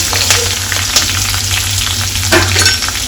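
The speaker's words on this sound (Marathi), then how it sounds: "जिरे आणि आता कांदे टाकून घेऊ." Onions hit hot oil with cumin and fry in a loud, close sizzle, with a few sharp stirring clinks and scrapes and no talking.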